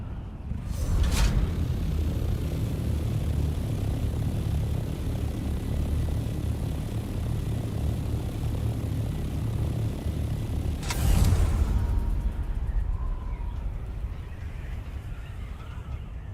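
Ornithopter from the Dune: Awakening video game with Mark 5 engine and wings, a steady whirring aircraft-like drone with a couple of brief swooshing bursts, heard close and continuous.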